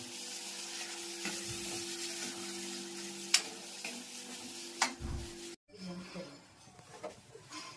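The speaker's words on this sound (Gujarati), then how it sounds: "અને આ નિમક સરસ મજાનો વઘાર થઈ ગયો છે, જોઈ શકો છો" Steady hiss of spices tempering in hot oil for a sev tameta curry, with a few sharp clinks of a spoon against the pan before it suddenly cuts off.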